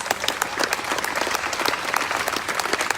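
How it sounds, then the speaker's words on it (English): Dense, steady clapping from a crowd at an outdoor rally of survivors in Fargo, loud and close, with no voices over it. "give yourselves a round of applause"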